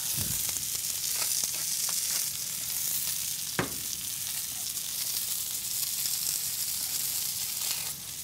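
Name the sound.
veal fillet searing in a pan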